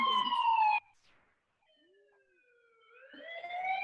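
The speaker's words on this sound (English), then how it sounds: "we're gonna be playing the siren, and then we'll also play a few other sirens" A wailing electronic siren sweeps loudly, cuts off abruptly, then after a near-silent gap slowly rises again with its tones gliding upward.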